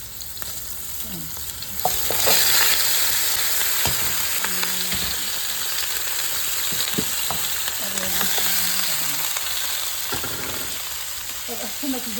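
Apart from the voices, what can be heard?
chicken frying in a pan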